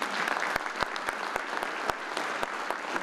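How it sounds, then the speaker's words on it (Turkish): Conference audience applause at a tourism technology summit, steady dense clapping with a few sharp louder claps punctuating it. "alkışlarla davet ediyoruz"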